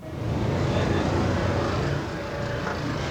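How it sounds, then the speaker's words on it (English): Steady low hum of a solar-powered electric car's motor, fairly loud and continuous, with a broad even drone and no speech over it. "Listen to that engine hum"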